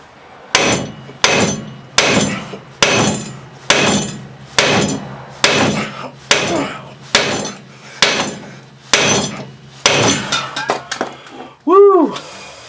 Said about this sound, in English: You're hammering on it again.